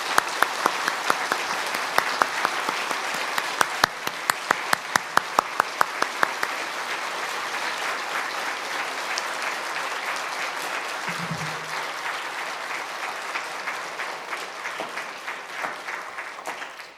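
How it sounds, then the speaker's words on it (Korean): Congregation applause at a Korean Presbyterian church's installation ceremony for a pastor, steady sustained clapping throughout, with some sharper distinct claps early on, fading toward the end. "뜨거운 박수 부탁드리겠습니다."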